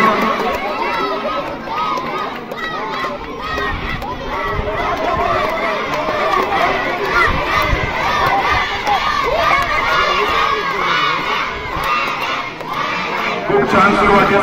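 A crowd of spectators at a kho-kho final between Loni and Kasapuri roars continuously, with loud shouting, cheering and excited yells rising and falling, dense and near.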